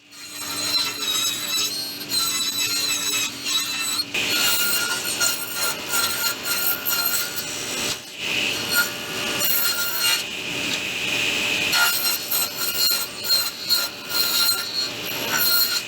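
Circular saw ripping a wooden board set on edge against a screwed-down guide and rip fence, a sustained loud whining cut with brief dips between passes, close by, no talking.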